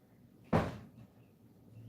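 A single door banging shut in a breeze through an open front or side door, one sharp muffled thud with a short decay, fairly close.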